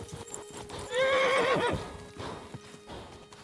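A horse in the video game Kingdom Come: Deliverance II lets out a loud, close, quavering neigh over the steady clip-clop of galloping hooves, which carries on more quietly after the whinny fades.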